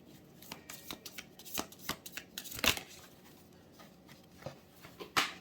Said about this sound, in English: Let's get one more shuffle and then I'll get that other card.